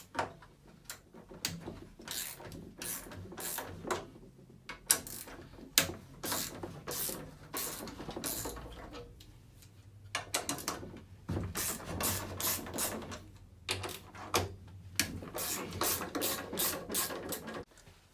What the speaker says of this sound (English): we've got a 10mm socket just to slacken these nuts off